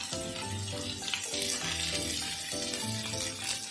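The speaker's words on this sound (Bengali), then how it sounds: "যত সময় পেঁয়াজটা একটু ব্রাউন কালার না আসছে তত সময় কিন্তু পেঁয়াজটা আমি ভাজা করতে থাকবো" Chopped onion frying in a pan in a village kitchen while making katla fish curry gives a continuous hiss of sizzling, with repeating tonal sounds running underneath it.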